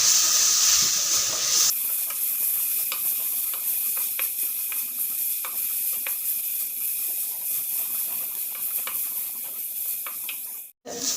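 Fish curry masala with four slit green chillies is sautéed in a pan. A loud burst of sizzling at the start gives way to a steady close hiss of frying that briefly cuts out near the end.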